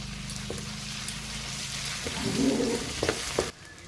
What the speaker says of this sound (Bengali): মায়ের পদ্ধতিতে রান্না হচ্ছে এরপর আমি আদা বাটাটা দিয়ে দিলাম